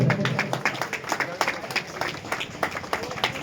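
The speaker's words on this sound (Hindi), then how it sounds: "आप तालियां बजाते हैं" An audience at a school science and craft exhibition ceremony claps in a brisk, uneven patter of many hands, moderately distant, with a voice faintly under it at the start.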